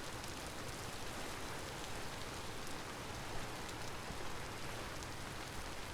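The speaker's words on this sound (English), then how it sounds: "now it started raining" Steady rain in a video game falls as a dense, even hiss that holds without a break, with no gusts, thunder or voices.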